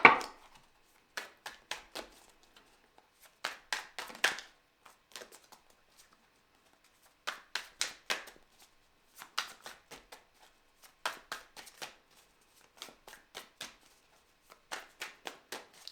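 A deck of tarot cards is shuffled in repeated quick riffling bursts, each a short crisp flutter of cards separated by brief pauses, close and clear with no talk.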